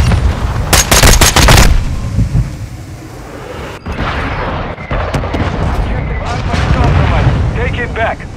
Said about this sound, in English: Hostile mortar strike.